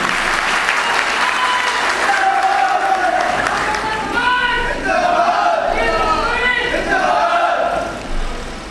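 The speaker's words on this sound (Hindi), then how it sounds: "भाई ताली में कंजूसी ना करिएगा" An audience at a Pasmanda Muslim Samaj district conference in Sultanpur bursts into steady, loud applause, with shouted voices and calls rising through the clapping.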